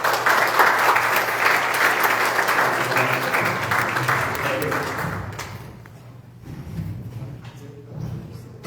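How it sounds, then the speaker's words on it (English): Sustained audience applause for the candidates at an August election candidate forum in Flint, Michigan, loud and dense for about five seconds, then fading to a softer scattered patter with faint low murmuring underneath. "So everyone, round of applause for the candidates."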